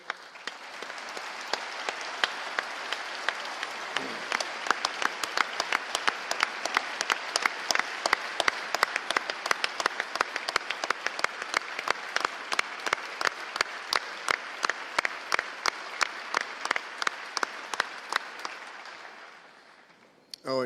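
Sustained applause from a legislative audience fills the Missouri House chamber, dense steady clapping for about eighteen seconds before fading out.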